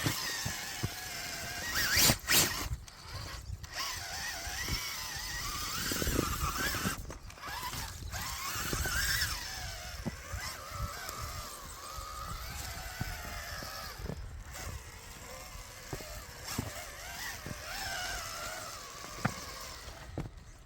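A truck works its way over a rough forest trail, engine rumbling under rattles, squeaks and jolts from the bouncing cab, with sharp knocks as it lurches over obstacles.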